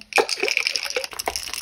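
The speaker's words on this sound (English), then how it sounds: "I add a little ice, and then I shake it up." Espresso shaken with ice in a closed container, with vanilla and salt, a series of sharp rattling ice clacks and sloshing liquid bursts in quick irregular rhythm, close and fairly loud.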